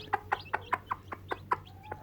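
A hen clucks on a farm on a hot day. She gives about nine short, evenly spaced clucks close by over a low background hum, with no talking.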